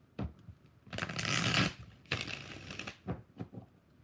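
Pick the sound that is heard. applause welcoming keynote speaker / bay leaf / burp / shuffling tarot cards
shuffling tarot cards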